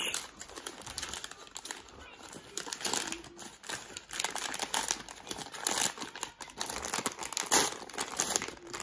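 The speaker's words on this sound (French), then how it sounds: "Le gros curieux qu'il est va ouvrir le cadeau" Gift wrapping being torn and crinkled as a present is opened, close, busy bursts of rustling paper that rise and fall throughout, with people talking softly in the background.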